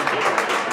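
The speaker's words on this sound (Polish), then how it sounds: "Wielkie brawa, bardzo serdecznie dziękujemy." Audience applause for a singer after an encore at an evening concert, a dense steady wash of many hands clapping close and fairly loud, with no pauses.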